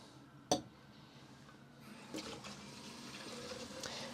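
Water poured into a container to top up photographic developer solution, a sharp knock then a soft running trickle building over several seconds, close and quiet.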